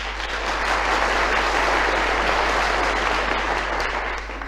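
Loud, dense applause from a large crowd, sustained clapping without pause before tapering slightly at the end.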